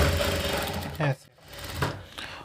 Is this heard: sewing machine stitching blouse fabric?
yes